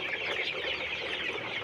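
Colorbird chickens in a poultry shed cluck steadily while feeding, a dense, continuous flock chatter close by with no voices.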